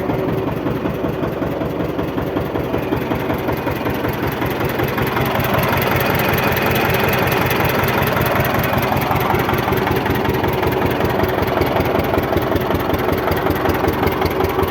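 A small tractor engine idles steadily and loudly up close, with a rapid, even chugging throb throughout.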